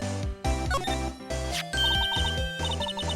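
Phone ringing in the Phoenix Wright: Ace Attorney video game, a bright electronic ringtone melody repeating in short bursts over a looping game music background, loud and close.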